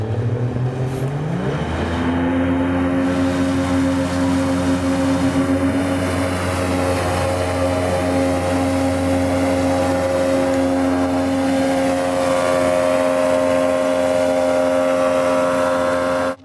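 A Vydra Sherpa Extreme 500 motorboat runs at speed with over 300 kg loaded in the bow, its outboard engine rising in pitch early on and then holding a loud, steady drone with water rushing beneath.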